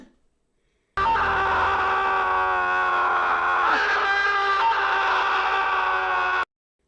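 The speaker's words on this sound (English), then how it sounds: "He lets out a final scream." A man's sustained, strained scream in a movie holds loud and steady for several seconds, then cuts off abruptly into silence.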